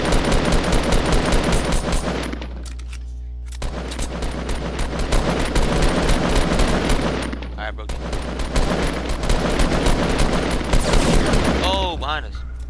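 Loud rapid automatic gunfire in a shooting video game, long sustained bursts with brief pauses between them.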